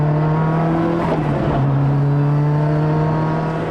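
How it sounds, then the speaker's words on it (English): A Lancia Delta Integrale Group N rally car running close and loud, with a steady engine drone, its exhaust note and turbo whine holding a constant pitch with a slight shift midway. "you can actually hear the exhaust and you hear the turbo chatter."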